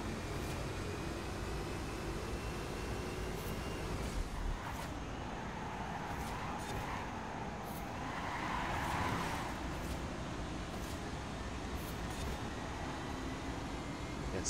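Fast car racing through a video game festival circuit, with a steady, loud engine drone and road roar running continuously, rising slightly mid-way, with no talk.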